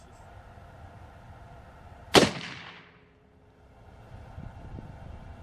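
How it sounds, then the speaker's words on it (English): A single sharp first shot from a 450 Bushmaster rifle firing AccuTip ammunition out of a cold bore, loud and close, with a decaying echo trailing off into quiet outdoor ambience. "Just gonna see how far off the first shot is from the next shot."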